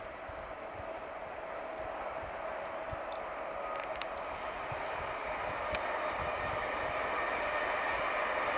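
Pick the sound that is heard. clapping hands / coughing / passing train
passing train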